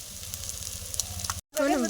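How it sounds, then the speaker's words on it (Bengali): Onions fry with garlic and ginger paste in a pan as a steady close sizzle with stirring, broken by a short pause before a voice speaks over the frying at the end. "এখানে পেঁয়াজ ভাজা হয়ে গেছে, তারপরে রসুন আর আদার পেস্টটা মা দিয়ে দিয়েছে।"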